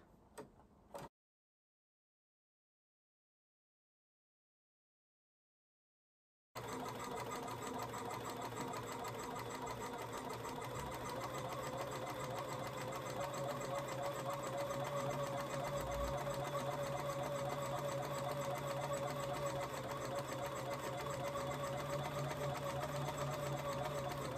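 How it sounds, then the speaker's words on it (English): A sewing machine stitches a Halloween place mat with a steady, continuous mechanical whir and tick after a brief silence, running close and fairly loud with no talking. "So just want to sew it right down that line."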